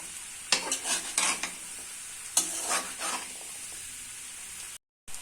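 Chickpeas and whole garlic cloves are stir-fried in a pan for chola bhuna, a close sizzle with bursts of scraping spoon strokes in the first three seconds, then a quieter simmer and a brief cutoff.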